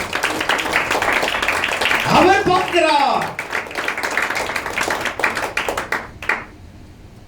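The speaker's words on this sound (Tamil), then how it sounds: "கையை தட்டுங்க உற்சாகம்." A congregation claps hands at a church worship service, quick rhythmic claps building to a loud burst and then thinning out, mixed with someone speaking over them.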